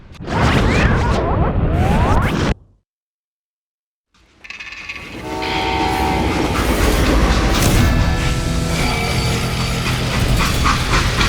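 A freight train in the video game Call of Juarez: Gunslinger rolls along steadily with a loud rumble and rhythmic clatter, broken by a brief silence before the heavy rolling noise resumes.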